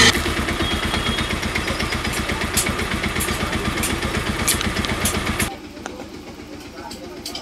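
Bajaj Pulsar 125 motorcycle idling near 1000 rpm, a steady low engine throb with rapid regular pulses running close and loud for about five seconds, then dropping away sharply to a quieter background.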